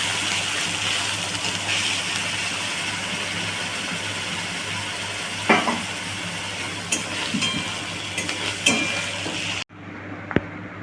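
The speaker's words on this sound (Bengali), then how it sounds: "পেঁয়াজটাকে একটুখানি ভাজা ভাজা করে নেবো প্রথমেই।" Onion frying in oil in a pan, a steady close sizzle running for about ten seconds with a few soft stirring scrapes, then cutting off abruptly near the end.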